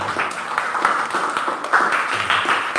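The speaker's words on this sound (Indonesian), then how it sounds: "Tepuk tangan untuk kita semuanya" An audience at the end of a school presentation on positive school culture gives a short burst of applause, many hands clapping close and steady for a few seconds without speech.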